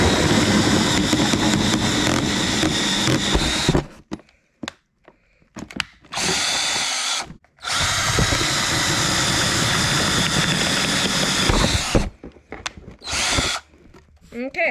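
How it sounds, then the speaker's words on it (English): A power drill bores holes in a plastic bucket lid for a DIY aquarium filter, giving two long loud whirring runs of about four seconds each, split by brief clatter and stops, and ending in a few short bursts. "We're gonna drill some holes."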